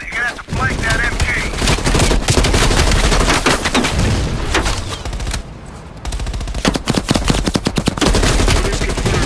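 An enemy machine gun nest firing in the video game Call of Duty Black Ops Cold War, with loud, sustained automatic bursts close by, a brief lull, then rapid rattling fire resuming over battle noise.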